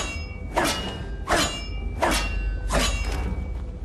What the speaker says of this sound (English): You can equip your pickaxe as a weapon and hit the rock wall